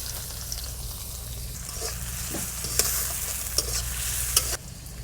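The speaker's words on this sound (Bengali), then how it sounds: "কেটে রাখা পেঁয়াজ দিয়ে দেব," Chopped onions fry in hot oil with cardamom in a wok, giving a close, continuous sizzle with a few clicks from stirring toward the end.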